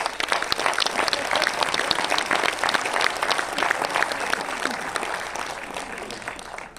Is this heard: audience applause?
yes